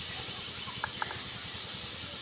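Vegetable chop filling fries in a pan with a soft, steady sizzling hiss, faint and continuous, with no talk.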